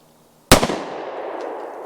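A single sharp gunshot from a Bond Arms 9mm Texas Defender derringer fired outdoors at a pumpkin, a loud close crack followed by a short decaying echo.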